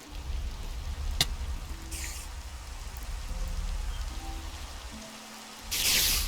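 Steady rain in Minecraft falls as a continuous soft hiss across the whole stretch, with a few faint game tones and a brief louder swell of rainfall near the end.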